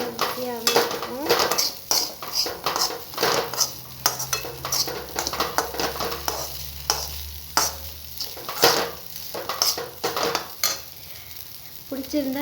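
Egg and poha (flattened rice) mixture stirred in a pan for an evening snack, with a spoon scraping and clinking against the metal in an irregular rhythm over a soft sizzle, close and steady throughout.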